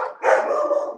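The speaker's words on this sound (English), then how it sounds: "My dog's barking too, but this is her nap time." A single loud dog bark indoors, a short, close, full-throated woof with no talk over it.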